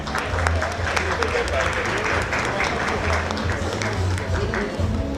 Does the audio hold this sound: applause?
yes